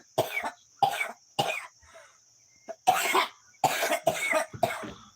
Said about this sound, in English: Little coughing action.